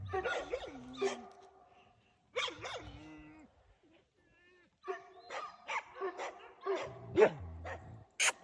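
A Kangal dog barks in a dark forest at night in loud, separated bursts of several barks each, with quiet gaps between and a brief whine in the middle.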